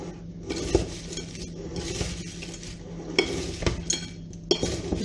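Caramel syrup poured onto a plate and stirred quickly, with soft scraping and occasional sharp clinks of a utensil on the plate over a faint, steady background, fairly quiet and without talk.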